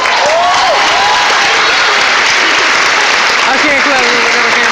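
Sustained applause from a large audience at a presidential speech in a high school, dense and steady throughout, with faint cheers and voices mixed in.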